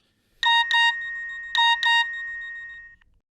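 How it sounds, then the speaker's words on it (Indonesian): A phone text message notification tone sounds four times in two quick pairs of bright electronic beeps, clear and close against near silence. "Trisa mengirim SMS padaku untuk mendatangi rumah Fohra"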